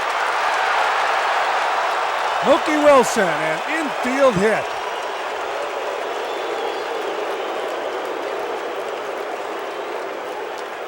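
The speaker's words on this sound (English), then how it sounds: "this crowd really into this ball game. They're here to see the Mets win it" A ballpark crowd at a 1988 Mets game roars and applauds steadily at Shea-style stadium scale, a broad wash of cheering that runs the whole time beneath a play-by-play announcer's voice.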